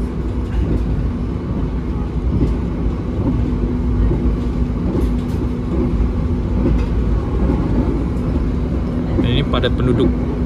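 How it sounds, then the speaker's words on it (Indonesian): Gajayana executive-class passenger train accelerating along rails past dense housing, heard from inside the carriage: a steady loud rumbling roar with a faint low hum and occasional clicks, continuous throughout. "Udah mulai kerasa ditarik, lokomotifnya akselerasi sampai berdebu loh."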